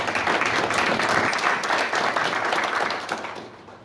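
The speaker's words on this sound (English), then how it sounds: "I think she deserves a very special applause." Steady applause fills a UN Population Fund gathering on maternal health, dense clapping holding at an even level for several seconds before tapering slightly at the end.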